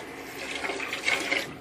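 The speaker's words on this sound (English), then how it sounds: "As you can see, it was every bit of a gallon of water, and it's still running." Toilet tank refilling with running water, a steady hiss of flow with slight surges, close and moderately quiet, with no talk over it.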